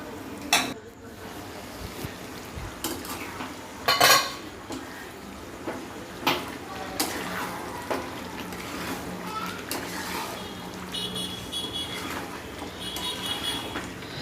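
Chicken gravy with fried potatoes is stirred in a pan, with a spoon scraping and knocking against the metal in scattered sharp clinks over a steady background sizzle, fairly close, without talk.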